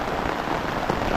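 Heavy typhoon rain pours down in a loud, continuous hiss, drops drumming steadily on a nearby surface with no talking.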